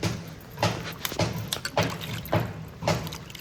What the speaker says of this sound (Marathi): पहिले स्वच्छ धुवायचे चांगल्या पाण्याने मस्त धुवून घ्यायचे